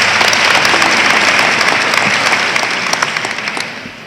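A large audience at a university homecoming convocation applauds and cheers loudly and steadily, a dense wash of clapping that stays close and full before slowly tapering off near the end.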